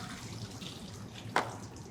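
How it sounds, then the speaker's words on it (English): Frozen beans being strained out of hot water, a soft watery trickle with one brief splashy pour near the end, close and fairly quiet. "You put it in hot water, you strain them out like that."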